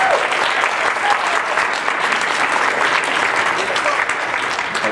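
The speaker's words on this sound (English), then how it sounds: "Give them another round of applause." An audience applauds a high school band at a Christmas concert, with loud, sustained clapping that fills the room at an even level throughout, with no break.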